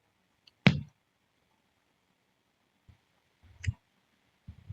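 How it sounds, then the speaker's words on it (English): A few sharp, close mouse clicks while submitting code, separated by quiet pauses: one crisp click early, then a softer pair later, with light handling noise. "Click on submit."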